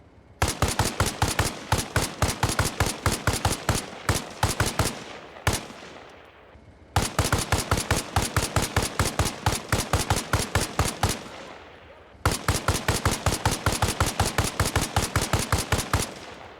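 M118 sniper rounds fired at a BTR armored vehicle in the Arma Reforger video game, loud sharp shots in fast regular strings, three long sustained bursts separated by short pauses, with no voices.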